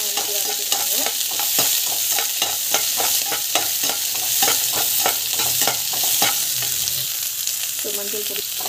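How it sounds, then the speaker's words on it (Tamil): Mustard seeds, cumin, chana dal, onion and green chilli sautéing in a pan, a loud continuous sizzle punctuated by a rapid, regular series of spatula scrapes and taps, with nobody speaking. "இந்த ஸ்டேஜில் கடுகு, சீரகம், ஸோ கடலைப்பருப்பு, வெங்காயம், பச்சை மிளகாய், ஸோ நல்லா வந்து வதக்கிட்டுருங்க"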